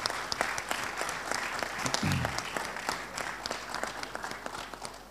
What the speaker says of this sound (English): So let me ask everybody to applaud those who participated but did not become winners.